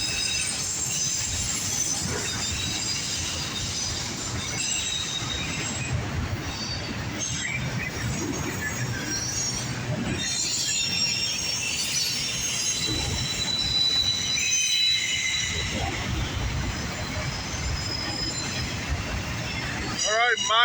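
Northbound CSX autorack freight train rolling steadily past close by, with loud, continuous high-pitched wheel squeal over a deep rumble of rail cars throughout.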